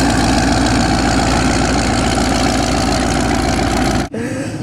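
Twin-turbo 5.2 Magnum engine idling after drifting, a steady loud rumbling drone with a rough low pulse that holds for about four seconds before cutting off abruptly.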